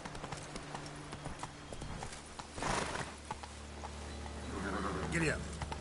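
A ridden horse's hooves clop along quietly in the background, a soft uneven patter partly masked by brief talk and a couple of louder bursts.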